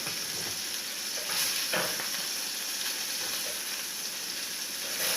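Sausage sizzles steadily in a frying pan, a continuous close crackle with a few louder pops and stirring scrapes partway through, no voices.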